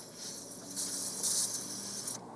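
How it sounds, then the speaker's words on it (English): A can of contact cleaner sprays into computer sockets with a close, hissing burst that swells and ebbs in short pulses before cutting off abruptly, with no talking. "What I might do is spray a bit of contact cleaner in there."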